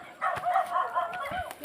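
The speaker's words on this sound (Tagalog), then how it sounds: "Aso yun ah, tumatawal ah." A dog yips and whines in short, thin, high bursts at moderate distance outdoors in a rural Philippine setting, with faint background noise and no speech over it.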